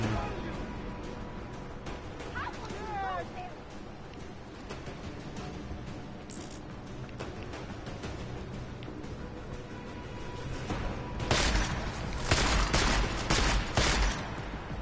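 Shotgun blasts in the video game Deus Ex: Mankind Divided, a dense cluster of loud shots crowding the final few seconds after quieter game ambience, with a voice speaking at points.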